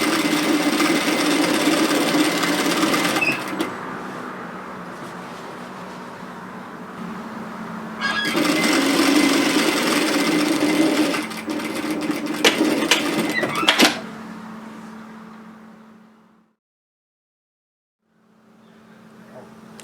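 Sewing machine stitching a bias-cut slip nightgown in fast, loud bursts of running stitches, pausing between runs and falling silent briefly near the end before starting again.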